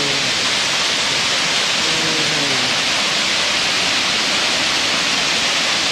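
Elephant Falls (Thác Voi), a waterfall in Vietnam, roars steadily as a dense, continuous wash of falling water, loud and unbroken throughout with no voices.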